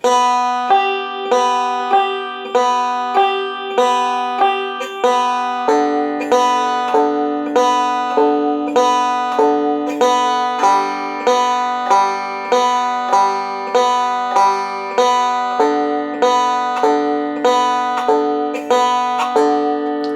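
A banjo plays a bright, steady picking rudiment of quick repeated plucked notes, even in rhythm, alone with no voices.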